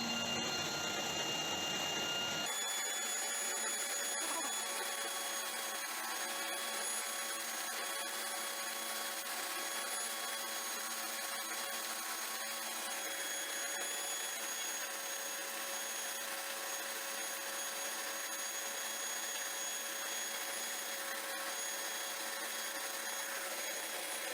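A homemade workshop vacuum cleaner starts up and runs steadily with a constant whirring, high-pitched motor drone and no pauses.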